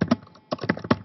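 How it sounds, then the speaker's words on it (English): Keys tapped on a computer keyboard while typing a title in a music editing program, two short clusters of close, crisp clicks separated by a brief pause. "begin by typing the title"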